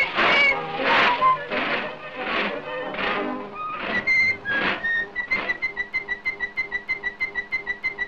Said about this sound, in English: why are you whistling the same notes over and over again?